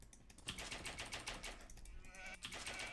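Sheep bleat in a real-time strategy game, a few wavering calls over a dense, busy layer of game sounds.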